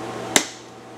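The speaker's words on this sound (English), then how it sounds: "All right, all my hammer blows are gonna come up into the face." One sharp metallic hammer blow on a horseshoe while forging a two-piece bevel shoe, a single close, bright strike against steady background noise.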